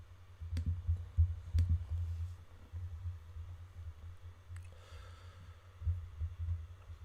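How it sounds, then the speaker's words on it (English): A computer mouse clicks a few times, sharp isolated ticks spread unevenly over several seconds, faint and close, above a low steady hum. "that's me clicking on the wrong things here"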